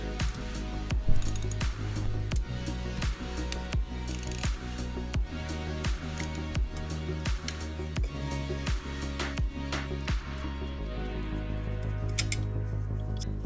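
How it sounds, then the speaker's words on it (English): A Honda Grom's exhaust header flange bolts are worked loose with a ratchet, a steady run of regular, sharp clicks and ticks repeating for many seconds, close and fairly loud. "next let's do these header flange bolts"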